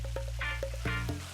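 Tilapia fish spit and crackle as they fry in hot oil, giving short bursts of sizzling over a steady low hum, close and fairly loud.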